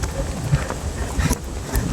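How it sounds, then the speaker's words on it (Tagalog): Strong gusty wind buffeting the microphone during an outdoor run on a hot, sunny day, in low rumbling bursts, loud and close, with no clear voices. "Malakas ang hangin guys."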